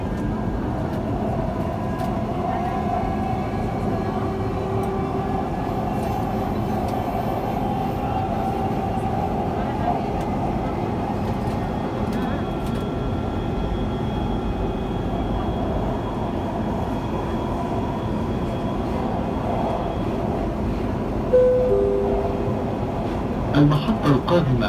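Dubai Metro train running between stations toward Expo 2020, a steady loud rumble of wheels and motors heard from inside the carriage, with a few brief clicks and squeals near the end.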